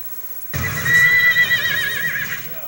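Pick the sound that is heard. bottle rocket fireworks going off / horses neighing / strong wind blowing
horses neighing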